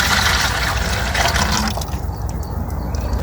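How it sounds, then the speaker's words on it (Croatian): Whey pours steadily into a bucket with a splashing, gushing rush that settles into a lighter trickle, close by. "U kantu sipam 1 litar surutke."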